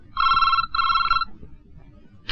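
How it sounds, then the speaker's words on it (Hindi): A landline telephone rings twice at night in quick electronic trills, fairly loud in a quiet room, then falls silent. "इतनी रात का किसका फोन है?"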